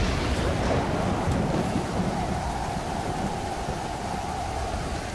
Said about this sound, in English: I would prefer to wait till the storm ends